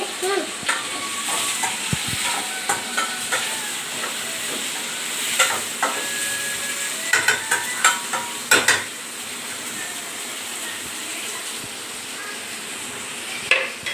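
Onions sizzling softly in a pan after salt is added, with a low steady hiss broken by scattered clicks and scrapes of stirring, no voices.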